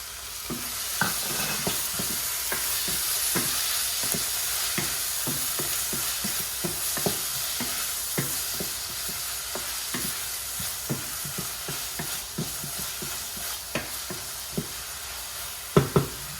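Finely chopped tomato sizzles in hot oil for a Gujarati chana dal sabji, with a spoon scraping and stirring around the pan in a steady rhythm of sharp clicks over a constant frying hiss.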